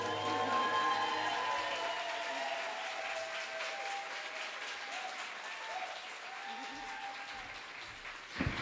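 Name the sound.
audience applause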